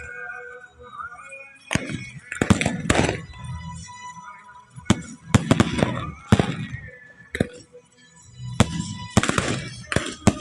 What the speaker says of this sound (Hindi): जितनी अच्छी आतिशबाज़ी हो रही है